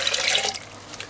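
Water pours steadily into a blender holding grated coconut for Jamaican peanut porridge, a close, splashing rush that fades after about half a second into a softer trickle.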